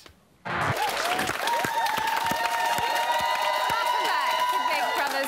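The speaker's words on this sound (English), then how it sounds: "Thank you so much for clapping them" Studio audience at a live Big Brother's Bit on the Side broadcast breaks into loud, sustained applause and cheering, steady throughout and overlaid with tonal show music.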